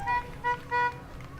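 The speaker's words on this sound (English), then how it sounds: "Giving us a little honk and a wave." A parade vehicle at a Fourth of July parade in Show Low gives three short honks of its car horn, a bright toot-toot pattern heard over steady outdoor street noise.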